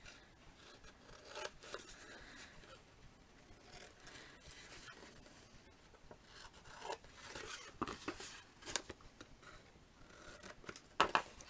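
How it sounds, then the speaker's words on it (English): Scissors snip and trim cardstock along a score line while making a shadow box frame card, giving a run of close, crisp crunching cuts with scraping rubs between them. "You can see that score line. And trim it off."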